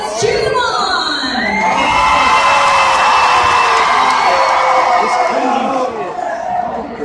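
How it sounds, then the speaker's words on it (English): Crowd cheering and whooping for school teachers at a high school event, sustained loud shouts and yells with children's voices throughout, dipping slightly near the end. "Bravo, let's cheer them on."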